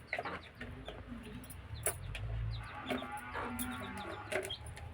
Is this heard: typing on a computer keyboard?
no